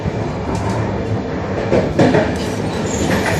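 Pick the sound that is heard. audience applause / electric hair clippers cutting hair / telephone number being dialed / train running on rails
train running on rails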